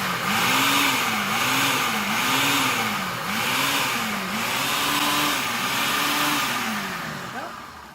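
Food processor pulsing cheesecake crust ingredients with butter in a home kitchen, a loud continuous motor whir rising and dipping in repeated surges over several seconds before cutting off near the end.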